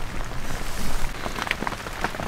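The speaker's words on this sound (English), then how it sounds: "Well, that rain hasn't let up" Heavy rain drums on a small camping tent at an urban island site. It is a close, dense patter with sharper individual drops hitting the fabric, with no talking.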